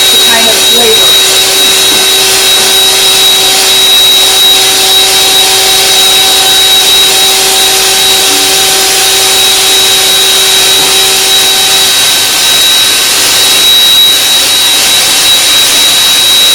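Electric hand mixer whipping frothy egg whites for lemon meringue pie, a loud, steady, unbroken whirring drone that runs close to the microphone the whole time.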